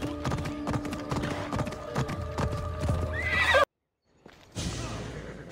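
Orphnaeus, a horse in the video game Assassin's Creed Odyssey, clip-clops with rhythmic hooves, then lets out a loud whinny before a sudden brief silence and a fresh burst of sound.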